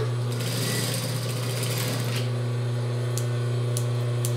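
A sewing machine runs steadily as it stitches a seam of about one centimetre around a piece of fabric for a child's jumpsuit, giving a continuous close mechanical hum with a rapid rhythmic clatter and no talking.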